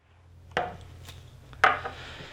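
A knife dicing green chilies on a cutting board produces two distinct sharp chops with a lighter tap between them, close and clear over a quiet background hum.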